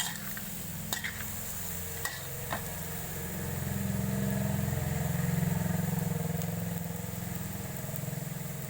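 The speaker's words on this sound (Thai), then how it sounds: "ผัดให้ปูเหลืองก่อนนะคะ" Crab stir-fried with curry powder in a hot pan, a steady close sizzle and low rumble with a few scraping stirs and clinks of the utensil against the pan, no speech.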